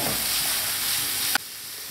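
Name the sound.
carrots frying in a pan with onions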